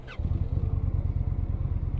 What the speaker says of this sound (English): Even when you crank it up with its stock exhaust, it's still giving it a little bit of rumble.